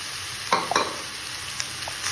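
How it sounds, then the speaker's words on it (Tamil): Cooked rice is stirred into garlic masala in a hot pan with a soft continuous sizzle and a few quick spoon scrapes, brief and fairly quiet. "சேர்த்துட்டு எல்லாத்தையும் ஃபுல்லாக மிக்ஸ் பண்ணிக்குவோம்"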